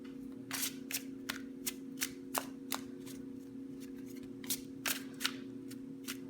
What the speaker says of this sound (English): I'm going to shuffle these cards and I'm going to draw a card for all of you